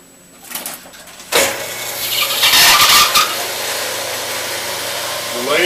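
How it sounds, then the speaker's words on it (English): A wood lathe spinning up in a workshop, a steady motor hum joined by a sharp squealing, hissing burst of tool contact midway before settling back into an even running drone. "The lathe is running."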